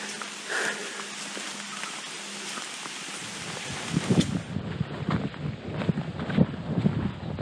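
Rain in the Dolly Sods wilderness patters steadily on surfaces near the microphone, a soft continuous wash with louder drip taps and wind rumble, no voices.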